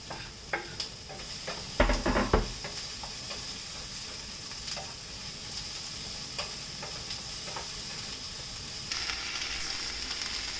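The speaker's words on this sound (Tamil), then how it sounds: "கட் பண்ணி வச்சுருந்த ஆனியனை வந்துட்டு ஆட் பண்ணிக்கிட்டேன். அது லைட்டாக வதங்கட்டும்." Onions and drumsticks soften in a pan for sambar, a gentle steady sizzle heard up close, broken by a few spoon stirs and scrapes against the pan, with a louder clatter near the start.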